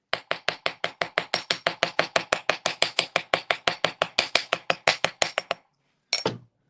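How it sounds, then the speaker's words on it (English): A hammer striking jewelry wire to texture it, about thirty sharp, evenly spaced metallic taps in a quick steady rhythm, close and loud, followed by a short pause and one last clink. "I'm intentionally changing the angle that the hammer's coming from, so that the sides of the wire are also getting"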